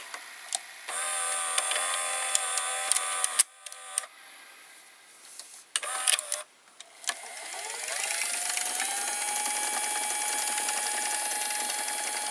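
A JVC VCR's loading mechanism motor whirs steadily, with a steady tonal hum broken by clicks and brief stops before it settles into a continuous whine, close and alone.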